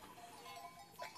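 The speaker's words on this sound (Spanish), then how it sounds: "Este enorme rebaño de cabras que casi ni te vemos ahí en medio de tantas" A large herd of goats on the island of Gran Canaria bleating together, a dense overlapping chorus with one louder bleat near the end.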